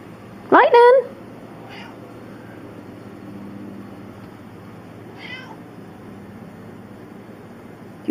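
A cat lets out one loud, close meow, followed by a couple of fainter meows further off against a low steady hum.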